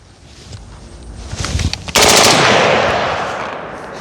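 Budget home-defense rifle fired rapidly at a target outdoors, a quick string of cracks building into a loud, dense burst that rings off slowly.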